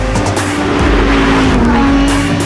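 A Lamborghini Huracán LP 580-2 slides on a race track, its tires squealing loudly over a hard-revving engine, close and continuous for a couple of seconds.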